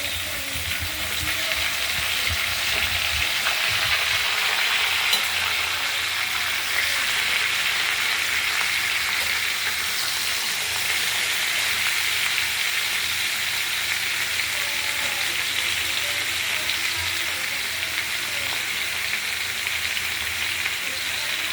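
Mixed vegetables such as taro, pumpkin, ridge gourd, jackfruit seeds, drumsticks and pointed gourd sizzle steadily in spice paste in a pan, a continuous loud frying hiss holding without pause throughout.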